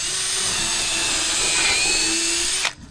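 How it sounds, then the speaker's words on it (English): A power drill whines at high speed for a few seconds, drilling a pilot hole in decking, steady and close, then stops abruptly. "I drill my first pilot hole right now while it's on the level"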